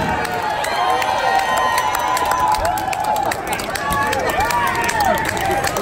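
Concert crowd at a live rock show cheering, a loud continuous roar with whistles throughout, mixed with shouting and talking voices.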